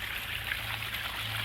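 Backyard stream water runs steadily over rocks, a continuous close trickle and burble with no pauses and no voices.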